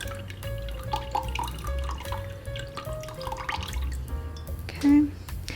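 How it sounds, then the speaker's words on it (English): Rocks being rinsed under running water from a tap, with steady splashing and dripping over a tonal background and a brief louder burst near the end. "you just want to rinse until the water runs clear"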